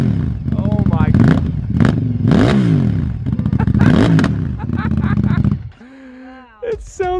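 Limited edition Ducati motorcycle engine revving loudly in repeated surging bursts, with rising and falling pitch, close by; it cuts off near the end as voices speak.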